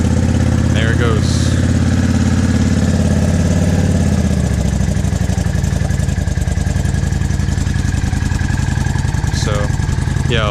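A Yamaha V Star 650 motorcycle engine fires up and settles into a steady, loud, close idle with an even low rumble throughout, after a brief rising note at the start.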